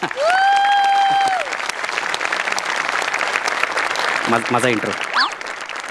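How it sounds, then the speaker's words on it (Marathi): A live studio audience at the Marathi comedy show Maharashtrachi Hasyajatra claps loudly and steadily for several seconds, with a brief musical tone at the start and voices rising over the end of the applause. "जोरदार टाळ्या त्यांच्यासाठी एकदा"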